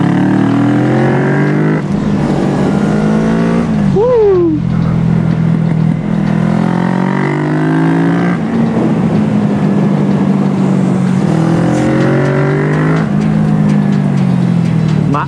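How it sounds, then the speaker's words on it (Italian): A supermoto motorcycle engine roars loudly and continuously, its pitch rising and falling through gear shifts as it accelerates, with a brief rev blip near the start. "Come deve suonare un motardazzo!"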